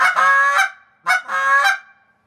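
Blown goose call imitating honking geese: two loud, close, two-note honks in quick succession, each a nasal rising-then-falling blast, separated by a short pause.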